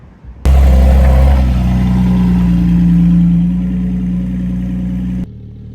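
A remapped car engine roars loudly up close, rising in a steady rev and holding for about five seconds before cutting off abruptly.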